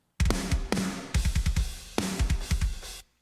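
Dry, unprocessed rock drum kit from a studio mix, playing a tight pattern of punchy kick and snare hits with cymbal wash, three short bursts of rapid strokes, loud and close, with no talking.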